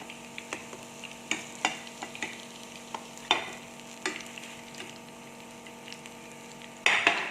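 Food fries in a pan of hot oil with a steady sizzle, while utensils stir and scrape against the pan in irregular taps and clinks.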